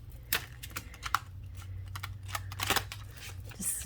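Tarot cards riffled and shuffled by hand in a run of quick, crisp flutters and snaps, close and fairly quiet, alone without talk.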